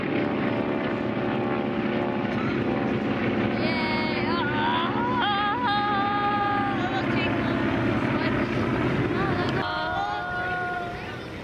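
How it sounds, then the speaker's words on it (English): A propeller airplane drones steadily overhead at an airshow for several seconds, its engine tone rising and wavering slightly, with a voice speaking over it. "And the airplane above."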